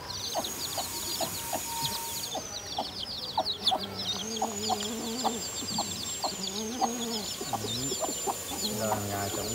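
A flock of farm chickens, hens with their chicks, clucks and cheeps steadily and close by, with high peeping calls running over repeated low clucks throughout.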